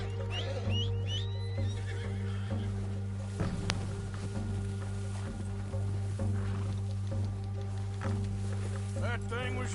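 A horse in the video game Uncharted 4 whinnies and neighs near the end while hooves clop along, set over a steady low game hum, with people talking throughout.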